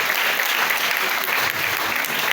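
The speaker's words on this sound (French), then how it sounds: "Il faut les applaudir encore très fort." Steady, dense applause from an audience honouring children at a ceremony, a continuous wash of many hands clapping loudly without letting up.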